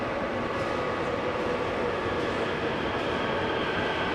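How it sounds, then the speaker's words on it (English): Train ride from the airport into Korea, a steady loud rumble of a moving rail carriage with constant wheel and cabin noise, no talk. "we got about an hour on the train, I think, to get into Korea proper"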